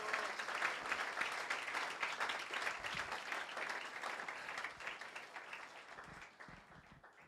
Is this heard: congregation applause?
yes